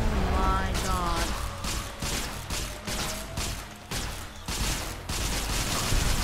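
A held-down automatic weapon in Fallout: New Vegas fires in repeated loud, dense bursts that pulse roughly every half second to second with short dips between them.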